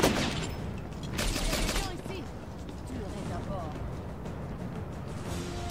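Rapid bursts of grenade-launcher fire from an MGL in the PlayStation 2 shooter Syphon Filter: The Omega Strain, loud booming shots and blasts with a couple of heavier thumps early on, continuing under steady game noise.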